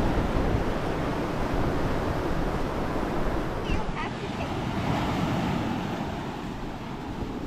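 Sea water splashes and rushes steadily beside a moving boat off Punta Cana, a continuous loud wash mixed with wind buffeting the microphone throughout.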